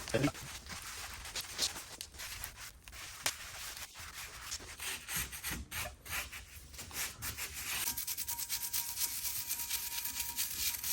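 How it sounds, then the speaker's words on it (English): Imperial stove polish paste rubbed by hand onto a warmed steel wood stove: steady close scrubbing and rasping strokes running throughout, with some faint voice underneath. "there's my once a year shoe polish coating of the wood stove with the Imperial stove polish paste"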